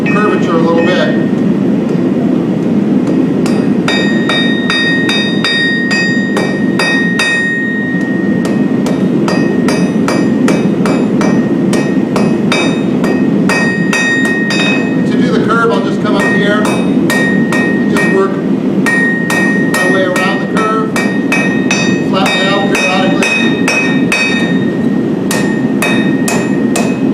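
Hot metal being forged on an anvil, cogging down a point and refining its curve, with a steady, loud run of sharp hammer blows ringing out in quick rhythmic clusters over continuous shop noise.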